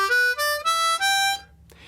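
A C harmonica plays a short blues lick, a few bright sustained notes stepping through the phrase with brief gaps, then a quick fade near the end. Played solo and close.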